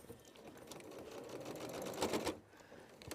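A sewing machine stitches down the side of a garment close to the zip, a steady mechanical whirr with quick repeating needle ticks that swells briefly louder near the end before easing off.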